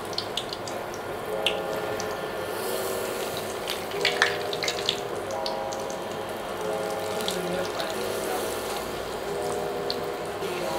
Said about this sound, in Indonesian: Jadi kita langsung goreng aja.